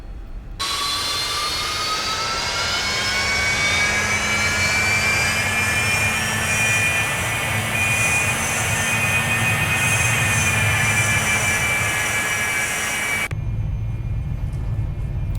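A Cessna Citation II business jet rolls down the runway for takeoff in the X-Plane 11 flight simulator, its engine whine rising and steadying over a deep continuous rumble with rattles and bumps, loud and sustained, then cutting to quiet.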